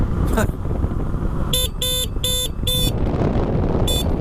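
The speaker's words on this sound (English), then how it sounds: "It actually has a really surprising loud horn." Four short, bright dirt bike horn honks in quick succession, then a fifth after a pause, sounding over a steady idling engine rumble.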